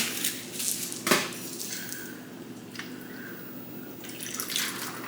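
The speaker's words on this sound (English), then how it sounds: "what's left over from the other part of the bottle of Guinness right here, and we're gonna pour it in" Leftover Guinness pours and trickles steadily into a cooking pot of corned beef and cabbage, with a soft splash near the start and light dripping throughout, fairly quiet and close.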